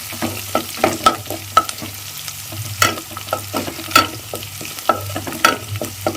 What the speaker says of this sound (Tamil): பூண்டு இந்த அளவு வறுப்பட்டால் போதும்